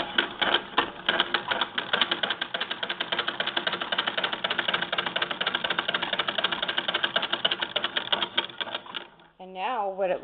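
Howe (Stockwell) Model A treadle sewing machine winding a bobbin, a steady rapid mechanical clatter running loud and continuous, then stopping as a voice begins to speak.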